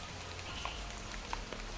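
Steady rain hisses across a surface, a dense even patter with a few distinct drops landing close by.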